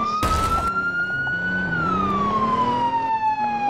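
An ambulance siren in the video game Roblox ERLC wails steadily, its pitch slowly rising then sliding lower, loud and close over a rumbling engine, with a brief burst of noise near the start.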